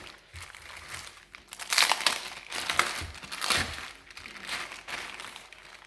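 Crinkly plastic wrapping is pulled off dry-aged steak close by, in several bursts of rustling and crackling with brief quieter gaps between.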